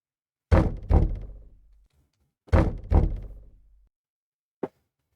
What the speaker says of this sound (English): Whatever it is, it's knocking right outside the door.